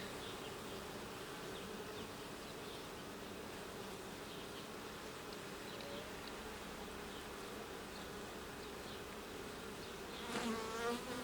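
Honey bee colony buzzing steadily inside an open Ukrainian-Alpine hive while the brood nest is expanded with extra frames of foundation; a dense, continuous close drone with a brief louder burst near the end.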